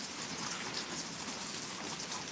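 Steady hiss of rain falling outdoors, a dense even wash of drops at moderate distance with no voices, continuous for the whole short stretch.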